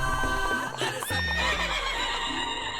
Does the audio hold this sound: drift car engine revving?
no